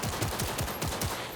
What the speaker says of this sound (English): That guy's got like a heavy machine gun or something.